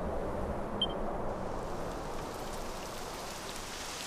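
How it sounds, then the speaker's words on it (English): Steady rain falls in the Dragon Quest XI video game, a continuous even hiss without any voices. "It would have to go and start raining, wouldn't it?"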